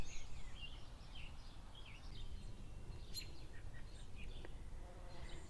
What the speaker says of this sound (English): It's early in the morning and the bees are working overtime.